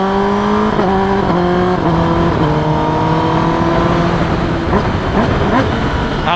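A Kawasaki ZX10R motorcycle engine on a dyno, loud and close, revving hard with a series of quick upshifts, each marked by a brief stutter and drop in pitch before climbing again.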